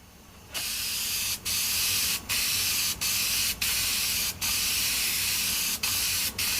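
Airbrush spraying custom gold paint over black during a Ninja restoration, a loud close hiss of air broken by brief pauses as the trigger is released between passes.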